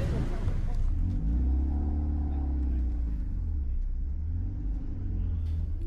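A modified Porsche 968 lapping the Nürburgring Nordschleife gives a steady, loud low engine rumble with rising and falling harmonic sweeps as it pulls through gears, continuous throughout with some faint voices mixed in.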